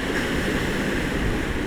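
Steady broadband wash of surf rolling up a shore, continuous and fairly loud, with wind noise buffeting the microphone and no voices.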